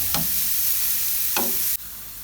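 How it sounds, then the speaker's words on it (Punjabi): Radish filling stirred in a hot pan with a steady sizzle underneath, punctuated by two short scraping strokes of the spoon and a sudden cut at the end. "ਹਲਕਾ ਹਲਕਾ ਸੀ ਇਹਨੂੰ ਹਿਲਾਉਂਦੇ ਜਾਵਾਂਗੇ ਤਾਂ ਕਿ ਇਹ ਥੱਲੇ ਨਾ ਲੱਗੇ।"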